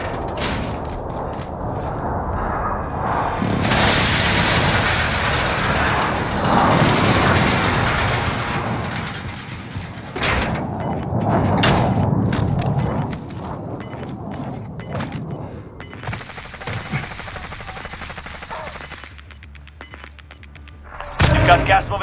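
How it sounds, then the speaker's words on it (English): An enemy precision airstrike in Call of Duty Warzone rumbles through a long stretch of heavy, roaring explosions and booms, with a sharp blast midway and sustained low thunder fading toward the end. "Enemy precision airstrike."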